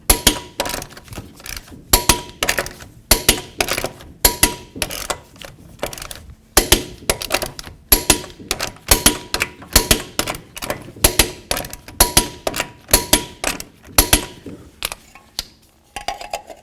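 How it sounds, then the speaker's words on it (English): Close metallic clicks and clanks ring out in a steady series of sharp bursts as a torque wrench tightens the lug nuts on a 2007-2017 Ford Expedition wheel to 150 foot-pounds. "let's go ahead and torque our lug nuts to 150 foot-pounds"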